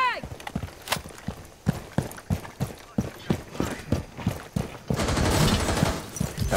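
Rapid bursts of gunfire from a Rainbow Six Siege match fire in quick succession, crackling loudly near the end amid game effects, with players talking over much of it.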